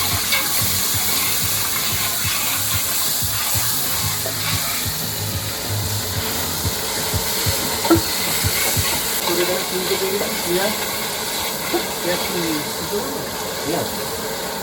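Garlic paste for a Bengali potato curry (aloo dum) is stirred as it fries in a pan. A steady, close sizzle runs throughout, with soft scraping under occasional voices.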